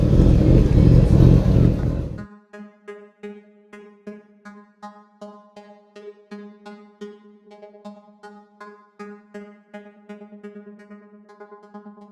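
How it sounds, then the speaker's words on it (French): At a vintage motorcycle rally in Plouay, after a short loud rush of noise, a steady run of rhythmic motorcycle engine pops and putters repeats, moderately near. "On entend les bruits de moto, donc du coup on va vers là, on entend les motos"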